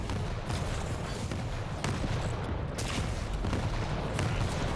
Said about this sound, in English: really trying to keep him at bay with those rockets